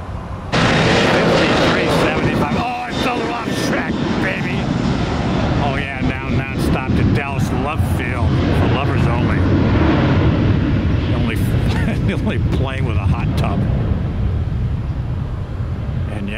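Airliner taking off from a runway at Tampa airport, a loud, roaring engine rumble that swells and holds for the whole stretch, with speech and radio chatter running over it.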